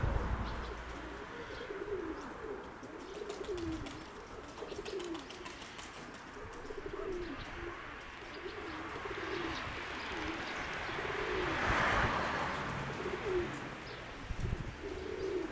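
Domestic pigeons coo in repeated soft, rolling phrases at close range, with occasional chirps and a brief wing flutter against a quiet outdoor background.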